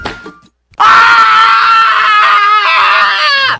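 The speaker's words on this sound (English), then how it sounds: "he runs around town screaming with excitement" A man in a radio advertisement screams loudly with excitement, one long sustained wavering yell lasting about three seconds after a brief quieter moment, with no other talk over it.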